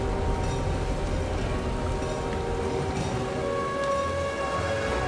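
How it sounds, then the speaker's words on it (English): Heavy rain pouring down outside, a dense steady hiss of drops drumming on surfaces, loud and continuous for several seconds with no talk over it. "Jeez, absolute downpour out there."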